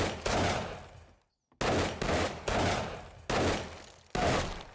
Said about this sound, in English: How many rounds are you firing off there, buddy?